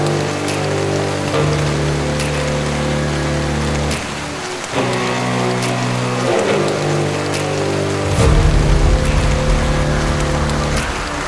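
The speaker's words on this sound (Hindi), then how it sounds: "फिर जो है आपको कुछ बारिश के नज़ारे दिखाते हैं" Steady rain falls in Karachi, a dense continuous hiss of drops on surfaces with a low hum and passing traffic underneath, loud and close throughout with no speech.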